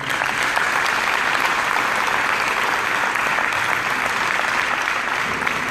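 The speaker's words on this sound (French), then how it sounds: "Je vous propose de les applaudir." A municipal council meeting audience gives the police a sustained round of applause, a dense, even roar of many hands clapping at steady loudness from start to finish, with no talk.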